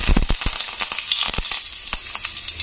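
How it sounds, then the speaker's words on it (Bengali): Curry leaves crackle and spit in hot sunflower oil in a wok, a loud, continuous fry with sharp popping bursts scattered throughout. "তো তেলটা গরম হয়ে গেছে, প্রথমে আমি দিয়ে দেবো কারি পাতা।"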